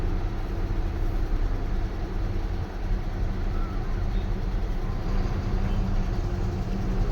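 Road traffic on a service road with cars backed up, a steady low rumble of idling and slow-moving engines throughout, moderately distant, with no clear talk.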